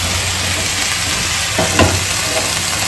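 Mushrooms, carrot, capsicum, sweet corn and onion frying in butter with a little oil, a loud, dense, continuous sizzle with a brief stirring scrape partway through.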